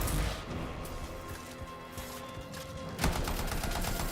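Gunfire and a grenade blast in the video game Anthem: a dense, loud burst of rapid shots and crackling impacts with a sharp surge near the end, without talk.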